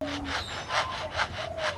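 A lyrebird imitates a hand saw cutting wood, giving five rhythmic rasping back-and-forth strokes, close and clear.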